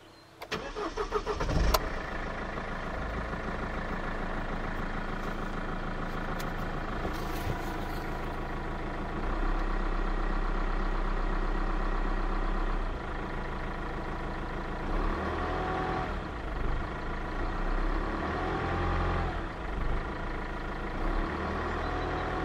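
A Mercedes C200 CDI W203 diesel engine cranks and catches with a sharp burst, then settles into a steady, loud, rumbling idle that continues throughout.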